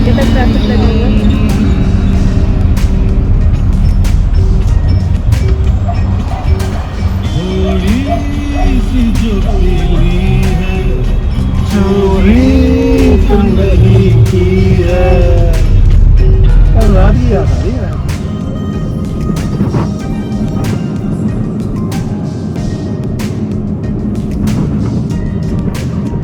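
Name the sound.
heavy road traffic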